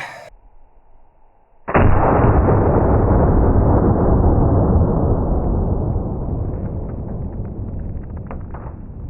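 An HK P2A1 flare gun fires with one sudden, loud blast, then a broad roaring rush that holds strong and slowly fades over several seconds, with a faint hum just before the shot.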